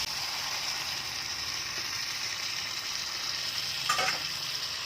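Water poured into a pan of frying okra and shrimp curry, a steady close sizzle with a brief splashing burst near the end, no voices.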